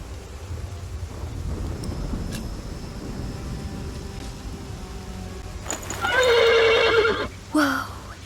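In a medieval video game, a horse lets out a loud, shrill neigh near the end, with a second short whinny after it, over a quiet ambient background with faint rumble and soft hoof sounds.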